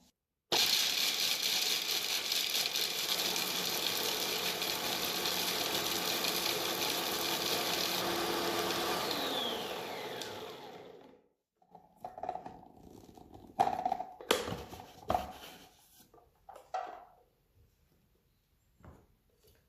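A kitchen food processor chops almonds in its bowl, a loud continuous whirring grind for about ten seconds that stops abruptly, followed by a few scattered clatters and knocks.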